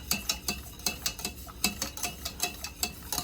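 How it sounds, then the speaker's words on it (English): Heavy cream, butter and sugar cooking in a pan for bread pudding, stirred with a utensil that scrapes and taps in a steady rhythm, close and fairly quiet, with no speech. "See everything cooking, the heavy cream cooking, the butter and the sugar, everything cooking to this creamy color"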